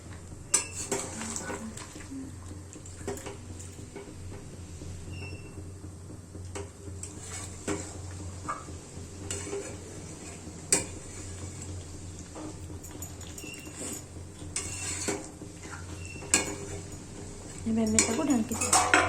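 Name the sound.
stirring chicken with masala in a pan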